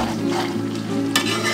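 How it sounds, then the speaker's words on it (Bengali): Goat tripe curry with turmeric is stirred in a pan, a continuous close sizzle under scraping spoon movements, with a brighter scrape near the end. "দিয়ে ভালো করে নাড়তে থাকবো, একদম তলা পর্যন্ত নাড়বেন যাতে জিনিসটা লেগে না যায়।"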